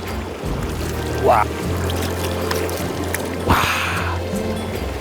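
A hand dips into cold, clear mountain stream water flowing down from Hongryu Falls on Sinbulsan. Two short splashes stand out close by over a steady background of running water.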